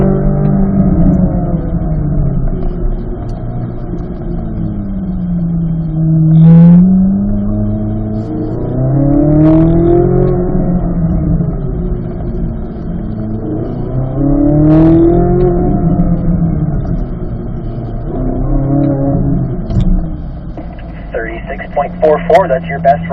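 Car engine revving repeatedly under throttle during timed runs, a loud engine note rising and falling in pitch in several sweeps, with a voice speaking over it.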